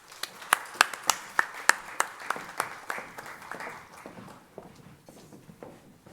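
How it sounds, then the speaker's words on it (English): A high school FFA awards audience applauds, starting with a few sharp, prominent close claps over a general crowd clapping that gradually thins and fades out. "Let's give all our green hands a round of applause."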